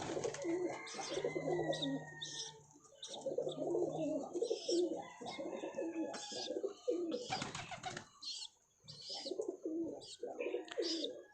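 Domestic pigeons coo in a loft, soft throaty calls repeating close by and overlapping. Scattered chirps and rustling sound in the background.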